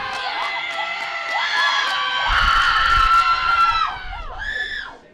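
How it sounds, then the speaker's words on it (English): A crowd at a high school baseball game between Perham and Dilworth-Glyndon-Felton cheers and screams after a hit, loud and sustained with children's shouts, then fades out near the end. "The crowds in attendance here are pretty pumped about that hit."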